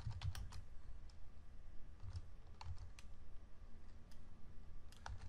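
Quiet, close clicking of a computer keyboard as a command is typed, irregular light keystrokes at low volume with no voices.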